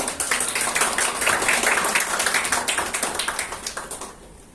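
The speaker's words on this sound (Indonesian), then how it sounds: "Tepuk tangan lagi" Audience at a Christian religious education class presentation claps steadily for several seconds, dense and close, then the applause thins and fades out.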